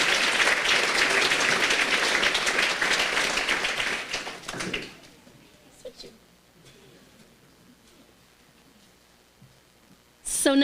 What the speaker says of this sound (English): let's give a round of applause for the McRae Farms